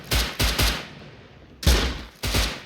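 Bursts of gunfire in the survival video game Rust, two quick volleys of loud close shots separated by a short pause, with no talking.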